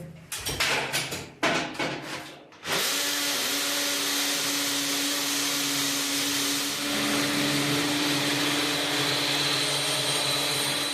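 Power drill boring holes into a bathroom ceiling, a loud, steady, close whine that runs unbroken for several seconds after a few short bursts at the start.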